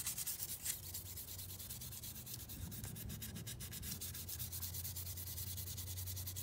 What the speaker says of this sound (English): I know y'all don't want to just sit here and watch me sand all this down